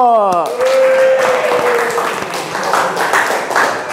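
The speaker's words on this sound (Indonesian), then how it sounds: "Tepuk tangan kanggo Bang Rembo" A brief voice at the start gives way to a class clapping, a steady burst of applause that carries on to the end.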